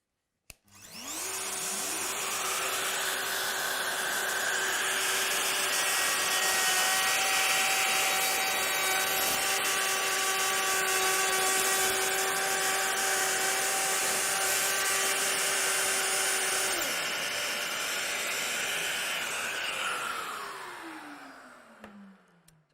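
A Festool OF 1010 router milling a rounded moulding into wood, a steady high-pitched whine running about twenty seconds alongside the rushing roar of a dust extractor, starting and winding down cleanly.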